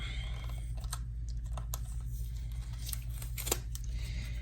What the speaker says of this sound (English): Now, take the tape off of it.